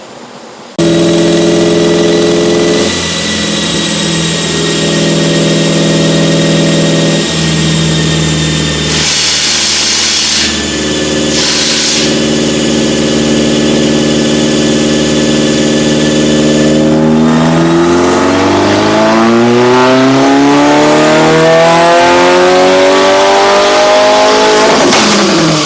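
A 2022 Subaru WRX with a custom J-pipe is held at a steady tone on a dynamometer, then revs hard and climbs sharply in pitch near the end, loud and close with no talking.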